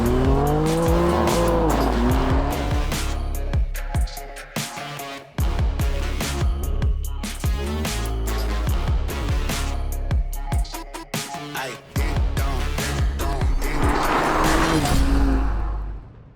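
A BMW M4 CSL sports car drives hard, its engine revving loud and close with repeated gear changes and sharp bursts of tire squeal, the noise continuous and aggressive throughout.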